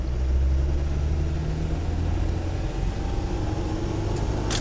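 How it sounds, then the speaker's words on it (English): A 1997 Land Rover Defender 110 with the 300Tdi diesel engine accelerating in third gear, heard from inside the cab as a steady, loud, low rumbling drone that holds constant throughout. "All right, so let's accelerate here."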